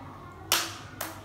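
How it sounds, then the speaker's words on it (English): A child claps her hands twice, close and crisp, the second clap softer and about half a second after the first, against a quiet room. "Hazel, clap."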